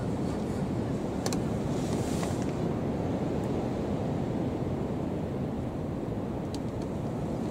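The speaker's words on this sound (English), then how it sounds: "It's a beautiful day today, apart from the wind." Steady outdoor wind on a chilly day, a continuous broadband rush buffeting the microphone throughout with no pauses, fairly loud and close, with no voices.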